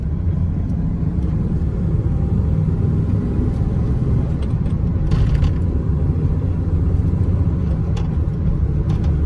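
A 1995 Ford F150 Supercab 4x4 pickup driving and working up through its five gears, a loud, steady engine and road rumble heard from inside the cab, with no talking.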